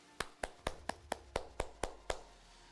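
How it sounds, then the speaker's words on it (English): A single run of crisp, evenly spaced claps, nine in all, at a steady quick rhythm, fairly quiet, for graduates at a high school commencement ceremony. "Let's give a round of applause to our graduates."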